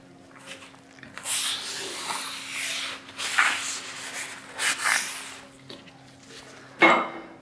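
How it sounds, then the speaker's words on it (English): A cloth wipes residue off a metal manway lid and nozzle in a series of soft, uneven rubbing strokes, close by and fairly quiet, ending with a sharp clink. No one speaks. "Using a clean cloth, remove all residue from the surface of the Manway lid and the nozzle"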